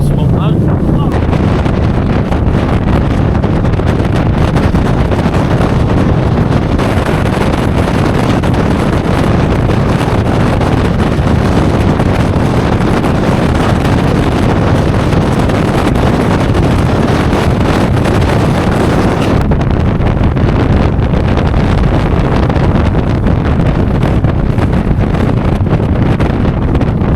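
A fast speedboat ride off Torquay at around 71 mph, with loud, constant wind roar buffeting the microphone over the engine and water noise the whole way through.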